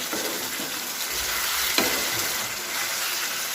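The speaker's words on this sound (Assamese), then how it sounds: "এতিয়া এইদৰে এইখিনি ভালদৰে লৰাই দিম" A pan of food frying after a splash of hot water, stirred steadily, gives a close, continuous sizzle with a brief scrape of the spoon partway through.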